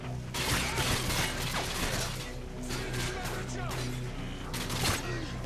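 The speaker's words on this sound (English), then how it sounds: "every gun has its own unique sound and explosions are brilliant" Dense, continuous combat noise from the video game Modern Warfare 2, with rapid gunfire, breaking glass, clattering impacts and crashing debris, loud throughout with a few sharper bursts.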